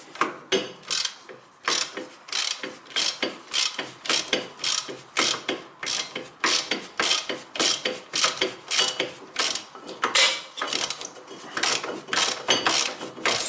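A ratchet clicks in quick, rhythmic strokes, loosening a bolt on a car's brake assembly. The repeated back-and-forth ratcheting is close and clear, with no talking over it.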